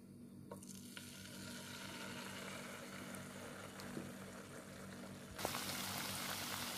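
Cucur cake batter goes into a pan of hot oil, with a soft steady frying hiss that jumps to a brighter, louder sizzle as the new batter hits. It is quiet and close, with no talking.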